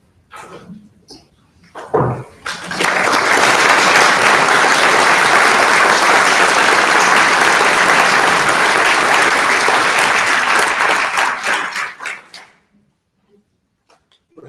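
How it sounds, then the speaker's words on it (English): Audience at a panel discussion on the Kansas courts breaks into sustained applause that swells abruptly, holds steady and loud for about ten seconds, then tapers off, with a few faint sounds before and after. "Perhaps that applause was premature"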